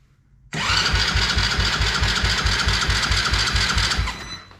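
A Tao Tao 125cc ATV engine that is burned up and being hot-wired cranks over, with a sudden onset into a fast, even chugging rhythm that holds steady and close before fading at the end.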